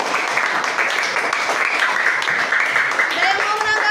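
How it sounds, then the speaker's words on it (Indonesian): A group of students or teachers in an Indonesian classroom applauds a presenting group, steady dense clapping through the whole stretch with chatter and voices mixed in. "Oke, tepuk tangan buat kelompok 4."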